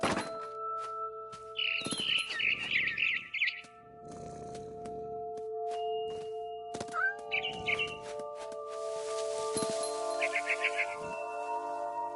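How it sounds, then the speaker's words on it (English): Barn swallow chirping in What Remains of Edith Finch: short bursts of bright twittering calls come and go over a steady droning ambience, with a few dull thumps in between. "Then I heard chirping outside my window. It was a barn swallow going back to her nest."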